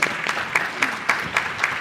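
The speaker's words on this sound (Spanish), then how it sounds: "Un aplauso, espérate, 10 años." A studio audience at a corporate interview event claps briefly, a short burst of steady applause with regular louder claps standing out.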